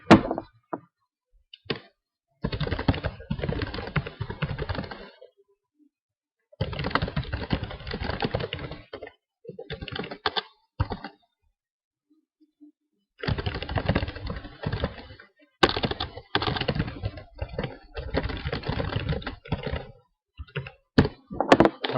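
Keys clatter on a computer keyboard in several bursts of rapid typing separated by pauses, close and clear with occasional heavier thunks, no speech.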